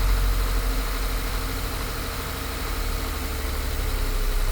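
A 2025 Subaru Forester engine, heard from under the hood, gives a steady low hum and rumble as it settles back toward idle after revving, continuous and fairly loud with no talking.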